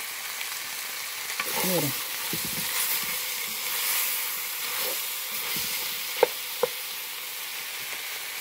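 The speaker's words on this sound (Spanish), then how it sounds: "que se fría un ratito el jitomate con la carne" Tomato and beef steak fry in a pan for bistec en chipotle, giving a steady loud sizzle with occasional stirring scrapes and small pops. A voice speaks briefly over the frying.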